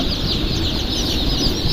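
Native desi chickens and chicks clucking and cheeping in a dense, continuous flock chorus, close and fairly loud, with no talking.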